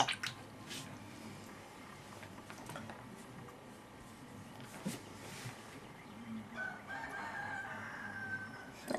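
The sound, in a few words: rooster crowing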